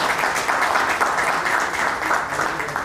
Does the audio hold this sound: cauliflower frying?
no